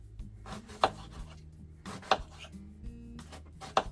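A knife cuts thin slices of watermelon, producing three distinct sharp chops on a board spaced about a second apart, with soft rubbing between them, close up and without speech.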